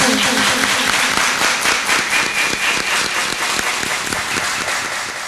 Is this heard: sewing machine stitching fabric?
no